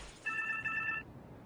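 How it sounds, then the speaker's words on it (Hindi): A phone rings with a short electronic trill, two quick bursts of bright tones, faint and alone against a quiet background. "फोन बज रहा है।"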